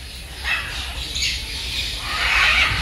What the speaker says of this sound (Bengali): মানে গাইস পাখির সাউন্ডটা খুব সুন্দর,